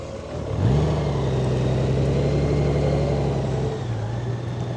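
A motorcycle rolls through slow U-turn practice inside a three-space parking lot, its engine settling into a steady, close, mid-pitched drone after a brief rise and easing slightly toward the end.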